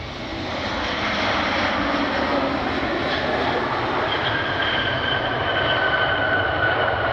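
A jet airliner passes at a Cleveland plane-spotting location. Its engine roar holds as a loud, steady broadband rush that swells in briefly at the start and stays strong throughout, with no voices.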